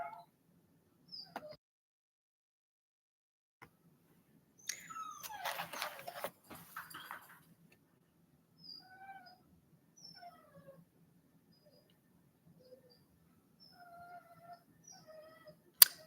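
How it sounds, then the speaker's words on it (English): A dog in the background of a home recording whimpers and yips in scattered faint bursts, with short high whines spaced over long stretches of near silence. "you probably could hear my dog in the background"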